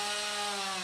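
A chainsaw cuts through tree branches with a steady, loud, close buzzing whine that holds without a break through the short moment, and no one speaks over it.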